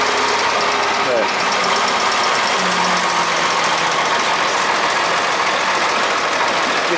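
Wisconsin engine on a Bolens GroundsKeeper / 1054 Husky garden tractor running after a cold start, a loud, steady, knocking chug that continues throughout, with talking faintly under it.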